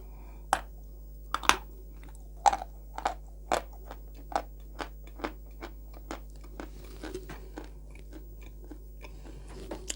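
Dried Mela Classic chalk is bitten and crunched near the mic, a dozen or more sharp, brittle snaps spaced roughly half a second apart over a quiet background.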